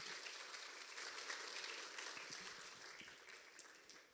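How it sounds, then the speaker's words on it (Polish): Audience applauding the mayor of Łasin at a children's song festival gala, a steady dense wash of clapping that holds at even loudness throughout and eases off slightly toward the end. "Serdecznie poproszę o brawa."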